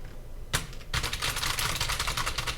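Enter is pressed on a computer keyboard as loud, close clacks, one sharp strike followed by a dense run of rapid key taps, with no talk.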